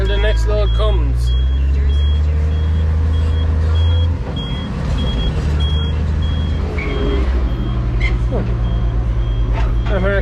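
Reversing beeps from a heavy vehicle working a silage pit ring out in a steady repeating pattern over a loud, constant engine rumble, with a voice talking through it.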